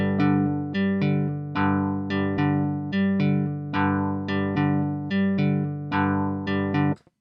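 A slowed arpeggiated MIDI chord in Ableton Live, rich sustained synth notes struck one after another in an even, unhurried rhythm, loud and continuous before cutting off abruptly.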